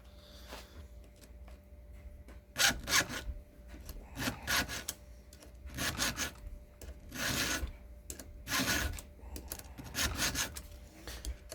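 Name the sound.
hand file sharpening chainsaw teeth in a vise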